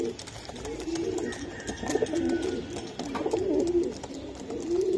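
Pigeons coo in repeated low, rounded phrases that rise and fall in a steady rhythm, close by and moderately loud, with faint background noise between calls.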